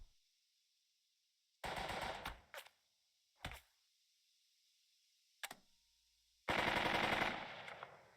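Soldiers' gunfire in the video game Burden of Command: separate sharp bursts of rapid machine-gun fire and single shots with near-silence between them, closing with a long, loud burst.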